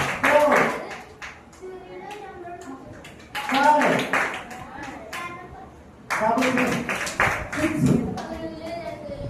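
Children in a Bible class clap their hands in short bursts while counting aloud, each burst a quick patter of claps mixed with their voices and an adult speaking between rounds.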